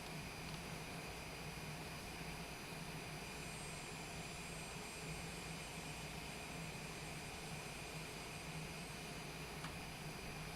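Airplane engines roaring steadily as the plane takes off from a runway in Microsoft Flight Simulator 2024, a constant, fairly faint jet drone with no other sounds.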